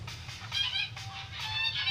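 Cartoonish geese from the Loosey Goosey game app honk and cackle in quick, overlapping bursts, a steady flock-like chatter at moderate volume throughout.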